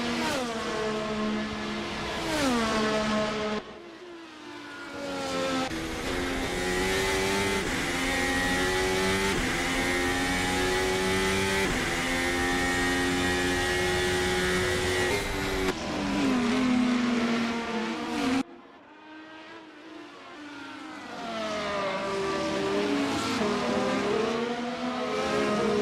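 Race cars at the Emilia Romagna Grand Prix scream through fast chicanes, loud high-revving engines rising and dropping through rapid gear shifts as cars follow one another closely, with a brief lull before more cars pass.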